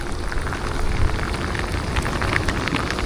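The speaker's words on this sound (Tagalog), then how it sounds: "Ayan na, lumakas na ang ulan." Heavy rain pours down continuously outdoors while fishing, a loud, dense, even roar with no talk over it.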